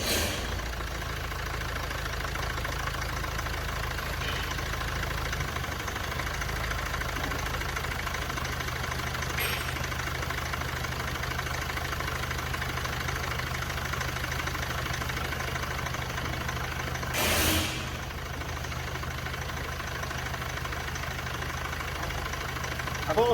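A Mercedes W212 engine idles steadily just after a timing chain replacement, a low, even mechanical hum heard close for the whole stretch, broken once by a brief sharp knock.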